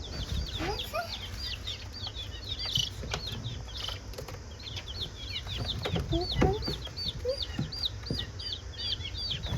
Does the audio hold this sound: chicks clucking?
yes